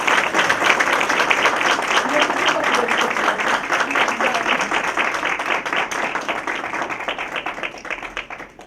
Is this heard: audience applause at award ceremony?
yes